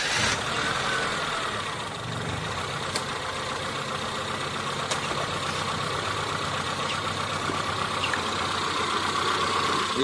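A car engine idles steadily after its throttle body is cleaned with the engine running, a smooth even hum at close range with faint ticking, no voices.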